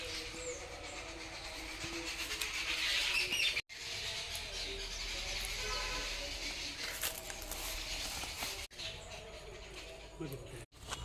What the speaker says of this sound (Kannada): ಗೌಜಿ ನಡೀತಾ ಇದೆ ನಿಮಗೆ ಕೇಳಿಸ್ತಿರ್ಬೋದು ತುಂಬಾ ಹಕ್ಕಿಗಳಿವೆ